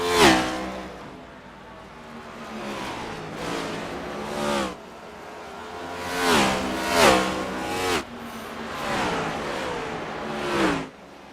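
Race cars roar past one after another at Bristol during the Compass Credit Union 200, loud engine passes with rising and falling Doppler pitch sweeps, several distinct cars going by in quick succession.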